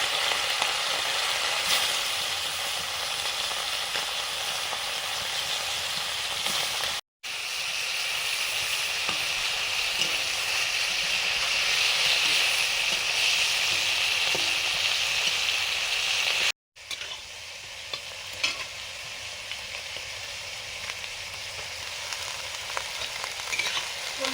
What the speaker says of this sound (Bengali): তেল গরম হয়ে গেছে চুনো মাছগুলো ভেজে নিচ্ছি